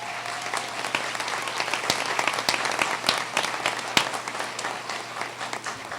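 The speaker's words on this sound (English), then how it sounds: "If you could please give the faculty a round of applause." Audience applause for the faculty at a 2017 community college commencement ceremony, a steady dense wash of clapping from a large crowd with sharper individual claps standing out throughout, sustained for the whole span.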